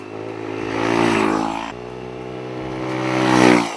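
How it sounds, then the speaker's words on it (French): A Kymco K-XCT 125 scooter engine with a full Arrow aftermarket exhaust revs twice, rising and falling in pitch, with a raspy, throaty tone close by. "la sonorité de la ligne complète Arrow du Mans homologuée"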